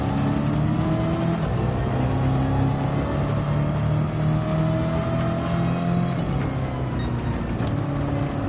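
Shelby race car in Gran Turismo 7, an aluminum-bodied lightweight roadster lapping Le Mans, its engine droning steadily and loudly with gradual pitch shifts as it accelerates, continuous throughout.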